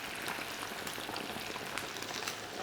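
Chicken wings deep frying in hot oil for Vietnamese fried chicken wings, giving a steady, dense crackling sizzle that holds at moderate level throughout, with no talk.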